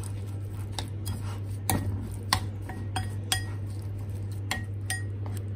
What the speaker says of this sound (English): Add the milk little by little till we get a good consistency.